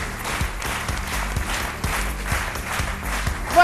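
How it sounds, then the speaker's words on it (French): A studio audience on a midday television set claps for an arriving guest, producing a steady wash of applause with a rhythmic beat running underneath, moderately loud and without speech. "qu'on applaudit très fort"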